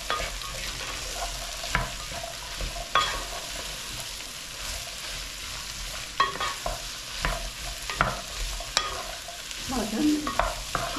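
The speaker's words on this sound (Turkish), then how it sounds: "Şimdi şöyle güzelce iyice çevirelim." A spoon stirs a lentil winter soup in a pot, scraping and clinking in irregular strokes over a soft background sizzle, close and moderately loud.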